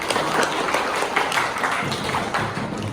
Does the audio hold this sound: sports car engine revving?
no